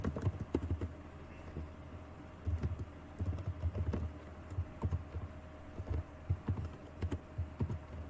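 Keys on a computer keyboard are typed in short, irregular bursts of soft clicks with brief pauses between them, close up and moderately quiet, with no voices.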